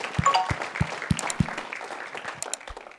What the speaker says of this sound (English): let's give the Lord a great big hand clap of praise.